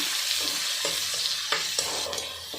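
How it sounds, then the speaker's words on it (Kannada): Onion, green chilli and curry leaves are stirred in hot oil with mustard seeds for beetroot palya. A spoon scrapes the pan in several distinct strokes over a continuous close sizzle, and no one speaks. "ಕರಿಬೇವು ನಾವು ಕಟ್ ಮಾಡಿಟ್ಟಿದ್ವಲ್ಲ ಆನಿಯನ್ ಹಸಿಮೆಣ್ಸಿನ್ಕಾಯಿ ಇಷ್ಟನ್ನೇ ನೀಟಾಗಿ ಮಿಕ್ಸ್ ಮಾಡ್ಕೊಳ್ಳೋಣ"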